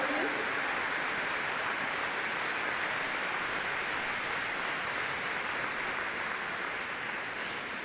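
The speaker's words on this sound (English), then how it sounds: "Some applause for you." Steady, dense applause from a tennis crowd at the Murray Trophy in Glasgow, congratulating the semi-final match winner, with sustained clapping from start to finish.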